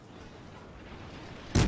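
A World of Warships cruiser fires its guns with high-explosive shells, a single loud boom at the very end after quiet ambient engine hum.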